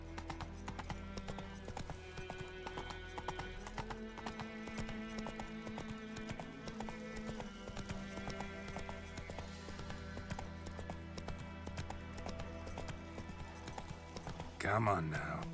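Roach, a horse in The Witcher 3 video game, gallops in a steady rhythmic clip-clop of hooves beneath game music and a sustained drone, with a brief louder burst near the end and a voice speaking over it.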